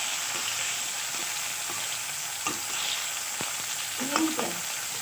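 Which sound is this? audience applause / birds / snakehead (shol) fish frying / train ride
snakehead (shol) fish frying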